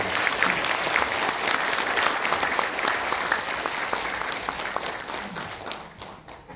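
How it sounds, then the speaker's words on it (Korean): A hall audience claps vigorously at a gathering, a thick continuous roar of many hands that holds strong for several seconds and then tapers off toward the end, with no voices over it. "힘찬 박수 부탁드립니다."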